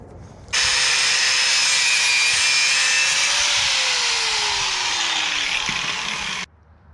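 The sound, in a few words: cutting a coil off a car suspension spring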